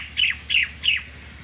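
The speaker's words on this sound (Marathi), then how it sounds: "साळुंकी" Three loud, harsh squawks from a common myna, evenly spaced about a third of a second apart, stand out clearly over a low steady background hum at an outdoor home setting.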